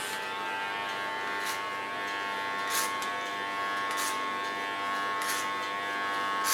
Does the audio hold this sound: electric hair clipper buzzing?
yes